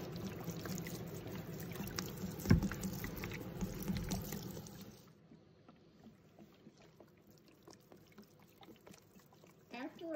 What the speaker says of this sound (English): Now I will be putting in 1 gallon of food grade alcohol.